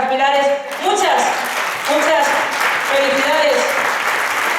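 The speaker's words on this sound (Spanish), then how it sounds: "Fuerte aplauso para las pilares" Audience applause at a jota folk music festival for the Pilar celebrations, loud continuous clapping running under a presenter's amplified voice speaking over it.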